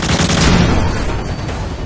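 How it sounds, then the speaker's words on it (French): A flashbang grenade goes off in the Modern Warfare 3 campaign, a loud, dense burst of explosive noise with rapid crackling gunfire-like texture that fades into a ringing, muffled tail. "Grenade flash!"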